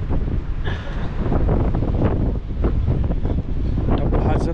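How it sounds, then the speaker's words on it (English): Cold, freezing wind gusts steadily across a microphone in Blackpool town centre, a constant loud rumbling buffet that runs throughout with only brief dips. "Freezing and windy."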